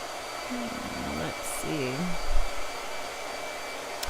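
A blow dryer runs with a constant whirring hum throughout, while a person speaks briefly over it.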